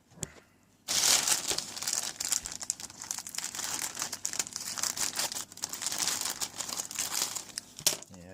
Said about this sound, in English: And just going to open up this bag.